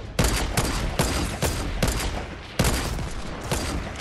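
Rapid gunfire in the video game Fortnite comes as loud, close bursts of shots, several sharp volleys in quick succession with no talk.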